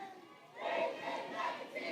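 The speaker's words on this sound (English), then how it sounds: "So this is the crowd is moving eastbound on Market Street." A protest crowd moving eastbound along Market Street, heard as a distant, diffuse mass of voices and shouts swelling in two waves over a low outdoor hum, with no clear individual speech.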